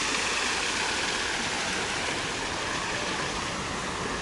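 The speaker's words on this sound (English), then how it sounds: "That's the waterfall you were hearing." A steady, dense rush of falling water fills the scene, constant and broadband with no breaks, from a nearby garden waterfall at the Vizcaya estate.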